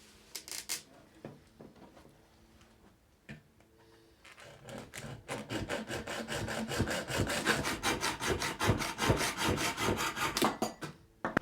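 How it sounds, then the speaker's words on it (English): Hacksaw cuts through a roller blind tube, starting with a few hesitant strokes, then settling into fast, even back-and-forth rasping close by, with no talk. "And now we're ready to cut the roller."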